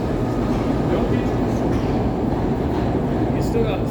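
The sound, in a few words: SEPTA Broad Street Line subway train at station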